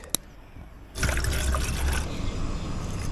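Water pours steadily into a pot or kettle to make tea, a sudden continuous splashing fill that starts after a short quiet moment and keeps running at close range.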